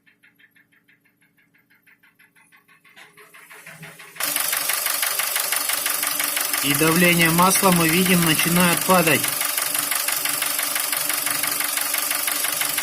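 A Nissan QG18DE engine near working temperature runs with a steady mechanical clatter and knock after starting up, loud and continuous, with someone talking over it partway through.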